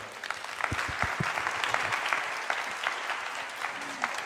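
Audience applauding at the close of a Swift programming seminar talk, a steady wash of many hands clapping from start to finish with a few louder nearby claps.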